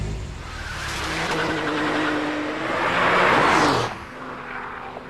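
A Porsche 911 Turbo of the 993 generation, four-wheel drive with traction control, driven hard around a handling course, with loud engine roar rising and falling and a burst of tyre scrub near the end.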